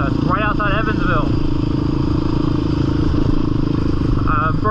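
Motorcycles ride at Interlake off-road park near Lynnville, Indiana, their engines a loud, close, continuous drone, with a voice talking over it in short bursts.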